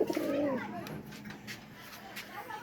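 A male Madrasi pigeon gives a short, low cooing call right at the start. Faint chatter and light background sounds follow.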